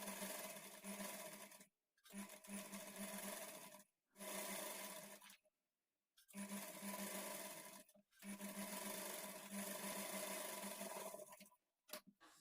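A sewing machine stitches the edge of a lined blouse in several loud, close bursts of fast whirring, each lasting a second or more, separated by short silent pauses, with no talking.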